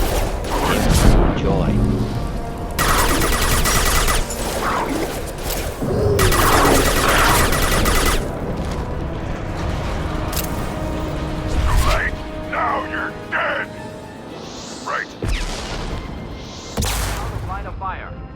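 Mass Effect battle on Tuchanka, with bursts of gunfire and heavy booms coming in dense loud stretches, broken by quieter moments where voices are heard.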